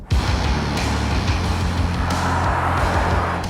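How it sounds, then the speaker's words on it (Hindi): A Mercedes-Benz EQC 400 electric SUV accelerating gives a steady, close low drone with a faint higher whine that holds through the whole stretch, with no talking. "जब मैं ज़ोर से इसका पेडल पुश करता हूँ तब ये इलेक्ट्रिक कार की तरह जो थ्रस्ट होता है वो देती है"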